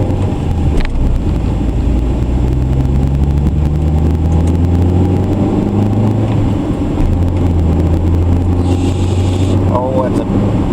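A 1990 Toyota Corolla with a replaced transmission drones at about 75 mph on the freeway, its engine holding a loud steady rumble that rises in pitch as it winds out, heard from inside the car with road noise.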